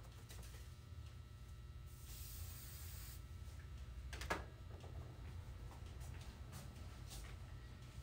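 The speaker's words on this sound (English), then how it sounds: "So I sprayed this with a little bit of 3M regular adhesive." A brief burst of 3M spray adhesive hisses from an aerosol can for about a second, followed by a few light clicks and taps over a steady low background hum.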